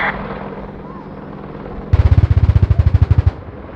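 AgustaWestland Apache attack helicopter of the British Army firing its gun during an airshow display: a loud rapid burst of about twenty evenly spaced shots lasting over a second, following steady rotor and engine drone.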